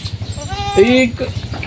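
A goat bleats once on a goat farm in Agoncillo, Batangas, a short wavering cry in the middle of a brief stretch, close and fairly loud over low rhythmic background noise.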